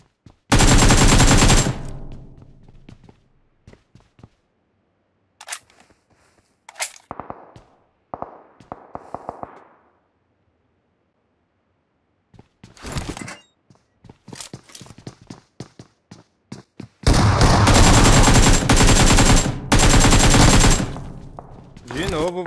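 Gunfire in the mobile battle royale game PUBG Mobile on the Nusa map, with loud bursts of automatic fire at the start and end and scattered single shots and short volleys between, broken by quiet gaps.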